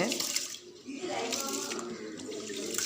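Running water splashes and swirls steadily as soaked urad dal is rinsed in a bowl under a tap, close and continuous with no talking.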